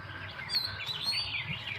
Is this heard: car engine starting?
no